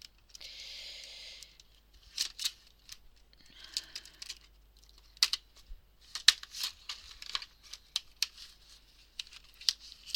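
Scissors snip and crinkle at plastic during recycling, with sharp, close clicks and rustles in irregular bursts and a brief softer crinkling stretch near the start.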